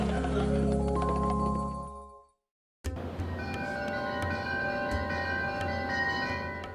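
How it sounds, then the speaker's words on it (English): Chimes struck to start a guessing game, ringing out as clear sustained metallic tones with long bright overtones that linger and decay, briefly cut off by a moment of silence before ringing again. "Stacey, ring the chimes."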